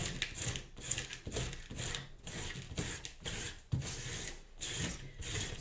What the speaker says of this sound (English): you can also use a special tool, a crepe eraser, that you just pass over the surface and it picks up